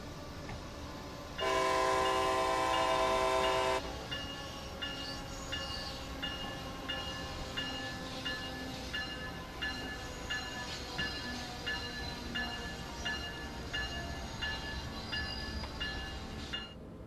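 An Amtrak ACS-64 electric locomotive in Train Sim World 2, with a long horn blast near the start, then a steady rhythmic clanging bell over a continuous rumble of the train, with no talk.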